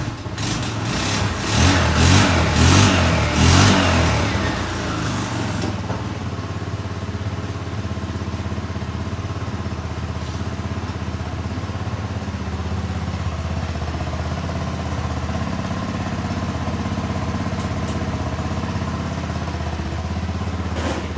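A Tao Tao buggy engine revs loudly several times in quick bursts at close range, then settles into a steady, rough idle that runs on alone for the rest of the time.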